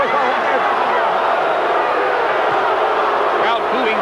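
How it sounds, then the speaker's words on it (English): Dense, loud boxing-arena crowd noise during a heavyweight bout between Evander Holyfield and Riddick Bowe, a continuous roar of massed voices with booing, steady throughout with no individual speech standing out. "Crowd booing Cortez's actions."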